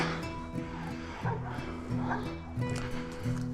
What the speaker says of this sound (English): Dogs over there fighting.